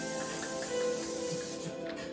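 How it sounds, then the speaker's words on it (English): Non-stick cooking spray hisses from a can onto a pan in one steady, close burst lasting about two seconds, tapering off at the end, with no talking. "you're gonna take a non-stick spray, and you're gonna spray the pan."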